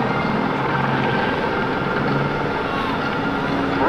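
An aerobatic airplane's engine roars steadily and loudly for a few seconds while the nose falls through the horizon during a maneuver back to show center at the 2002 NAS/JRB Willow Grove Air Fest.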